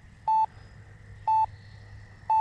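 Flight timer on an RC transmitter for an E-flite A-10 twin 64 model jet, three loud steady beeps spaced about a second apart over a faint hum, with no talking.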